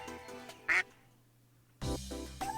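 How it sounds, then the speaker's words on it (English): Cartoonish duck quacks from a video game: one short quack near the start, then after a quiet gap a longer run of quacks, with a faint musical background underneath. "Oh, duck quacks."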